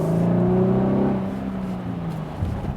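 A Cadillac CT6 with a V6 engine hums and drones from inside the cabin while driving, its pitch sliding as the revs shift, loud and steady with no talk.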